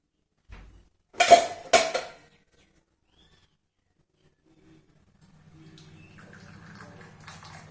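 Hibiscus tea is strained through a filter in a kitchen: a couple of sharp clinks of a vessel are followed by a faint, steady trickle of liquid in a quiet room.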